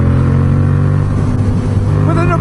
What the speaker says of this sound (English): Within a burst of acceleration, he's off.